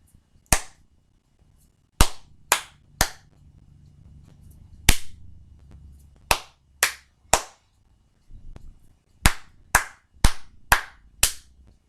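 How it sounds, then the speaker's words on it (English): Hands clap out a rhythm in sharp, crisp single claps with uneven spacing between them, some in quick runs and others after longer pauses, close and clear against near silence. "I'm only going to clap it to you."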